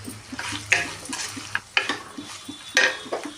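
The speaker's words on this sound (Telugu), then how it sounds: "ఇవి వేగుతున్నాయి కదా, క్యారెట్, జీడిపప్పు" Carrot and cashews frying in a pan for upma biryani, a steady sizzle broken by repeated scrapes and stirs of a spoon, close and moderately loud.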